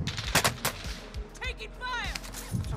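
Sharp sniper rifle shots ring out in an online shooter match, several separate cracks spaced across a few seconds, with a whooshing sweep in the middle and players' chatter running over the fire.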